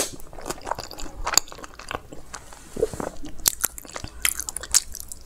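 Red sauce pasta eaten up close, with a series of soft bites and wet, crunchy chewing sounds in an irregular rhythm, quiet and alone.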